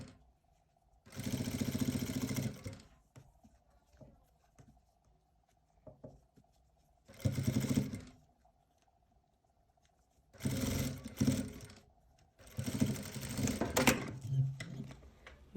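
A sewing machine stitches patchwork fabric pieces together in four separate whirring runs, loud and close, with quiet gaps and someone speaking softly in between.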